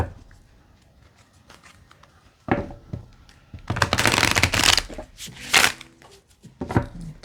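A stiff, little-used tarot deck is shuffled by hand in close, crisp bursts of riffling and slapping, separated by quiet pauses.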